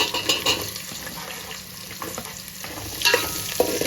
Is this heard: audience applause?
no